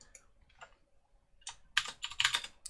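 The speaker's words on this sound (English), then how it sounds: "I'm just going to start typing it here" Someone types on a computer keyboard, with scattered single keystrokes that build into a dense, rapid burst of clicking, close and clear with no talk.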